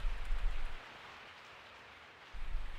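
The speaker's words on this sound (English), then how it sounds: "sound of falling rain" Steady rain falls in the Resident Evil 3 video game, a broad continuous hiss with low rumbling swells at the start and end, heard alone without voices.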